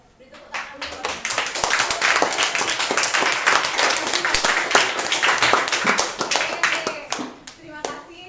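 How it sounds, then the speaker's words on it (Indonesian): A classroom of students clapping after a group presentation: a lively burst of close, crisp handclaps that runs for several seconds, with children's voices mixed in, then fades out. "Beri tepuk tangan dulu"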